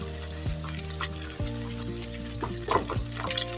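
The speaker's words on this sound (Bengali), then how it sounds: "ডিমটা হচ্ছে ভালো করে আমি হচ্ছে পেঁয়াজের সঙ্গে হালকা একটু ভেজে নিচ্ছি" An egg fries with browned onions in a pan, giving a continuous close sizzle with a few stirring scrapes and no talk.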